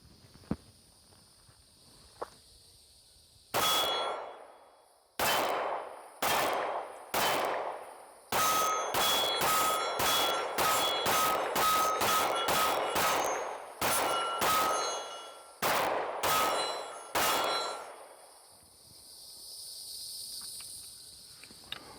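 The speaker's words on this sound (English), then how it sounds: "let's put lead on steel here and see how this trigger performs." SIG P320 pistol firing Fiocchi 115 grain rounds at steel targets outdoors, about twenty sharp, loud shots in quick strings with bright ringing pings of steel after many hits, followed by quiet.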